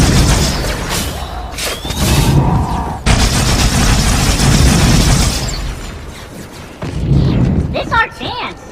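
Grenade blasts and gunfire hit brutes in Halo: The Master Chief Collection, loud repeated booming explosions and rattling shots, with a voice speaking between bursts.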